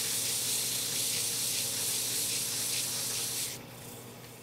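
Fine-grit sandpaper rubs against Cocobolo wood in a steady, close, hissing scrape with a faint back-and-forth rhythm, softening near the end.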